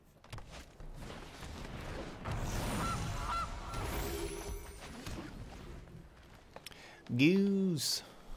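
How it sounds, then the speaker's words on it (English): Goose honks near the end, a couple of loud, close calls following a stretch of muffled rustling and movement. "Goose."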